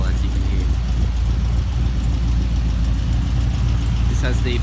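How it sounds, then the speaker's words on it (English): A 2013 Holden Commodore SSV Z Series V8 fitted with a performance camshaft idles, a deep steady low rumble throughout, with a brief sharper burst near the end. "It's also been fitted with a performance camshaft as well, as you can hear."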